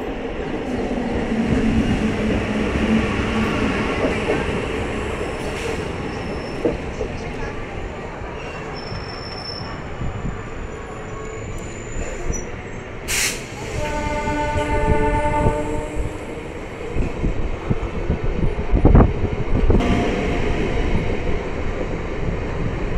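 The 17239 Simhadri Express runs on after departing a halt, a steady loud rumble of carriages with wheel noise, and a train horn sounds partway through amid faint voices.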